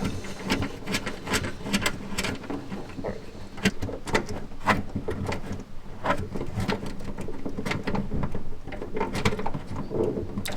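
A wrench ratchets an earth strap bolt tight on a classic Fiat 500, making close, repeated clicking and metallic scraping in an uneven rhythm, with small knocks and clinks scattered throughout.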